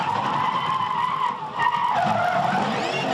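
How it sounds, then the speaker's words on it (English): Supercars race car spinning mid-corner under throttle, tyres skidding and squealing loudly and continuously with a brief dip as it rotates, engine noise beneath, no talk. "he actually gassed it right in the middle of it, spun it around more and drove it off"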